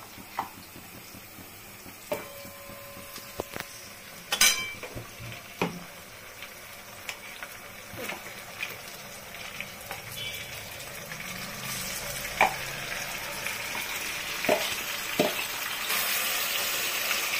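Mutton added to a pan of fried onions and spices, with a series of sharp clanks and scrapes from stirring over a hiss of frying that grows louder and denser toward the end.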